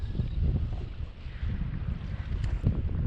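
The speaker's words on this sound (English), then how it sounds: "All right, you guys get to see how this thing does in the wind." Wind blows hard over a kayak on choppy, whitecapped water, with a steady roaring rush and buffeting against the microphone, loud and continuous with no talking.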